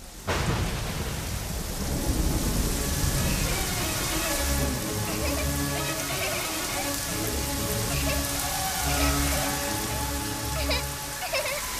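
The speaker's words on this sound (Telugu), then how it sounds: "అర్ధాంతరంగా ఈ వాన కొండ పోతగా పడుతోంది." Heavy rain pours down in a downpour with dense hiss of drops on surfaces, thunder rumbling low, and a faint musical score running beneath the steady storm.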